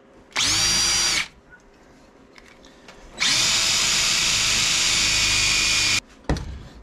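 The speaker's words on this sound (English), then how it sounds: "drill a hole in the center of it" An electric drill whirs loudly while drilling a hole in metal, in two bursts, a short one then a longer sustained run, with quiet gaps and a brief final spin-up.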